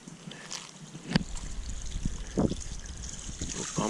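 Water is pumped out of a 1000 gallon rubber-lined sump serving six 240 gallon tanks, giving a low trickling and gurgling flow. A few sharper splashes and knocks stand out over the close, steady background.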